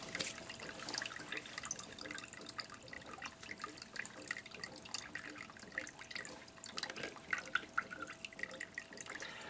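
Water dripping and trickling from a freshly installed GPU water-cooling loop on an EVGA GTX 980 HydroCopper card, a steady run of small wet drips and splashes close by, with no talk.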